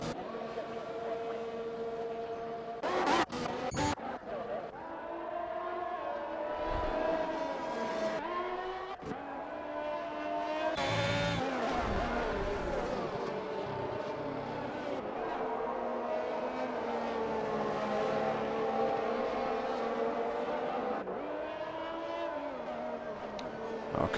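Alfa Romeo and other race cars roar and whine past on a Brazil circuit in a racing game, engines droning steadily with shifting pitch over a sustained stretch.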